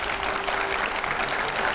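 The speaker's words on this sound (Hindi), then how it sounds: "जोरदार तालियां उनके लिए," A studio audience at a television debate show gives a short burst of steady, dense applause that continues throughout.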